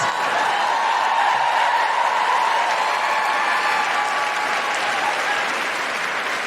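A live audience at a Melbourne comedy show applauds and cheers in a dense, continuous wash of clapping that holds steady for several seconds, with a faint voice barely audible beneath it.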